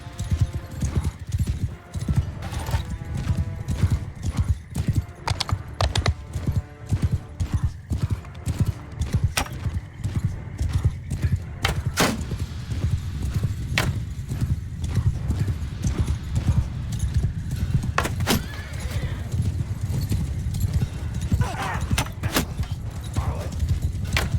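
Many hooves clatter in a fast, dense clip-clop rhythm of horses galloping together in Mount & Blade 2: Bannerlord, with a whinny and a voice talking intermittently over them.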